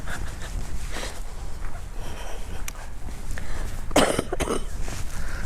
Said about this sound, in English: No, I'm busy coughing.